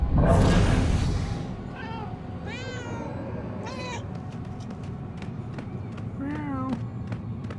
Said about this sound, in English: Ooh, kitty cat.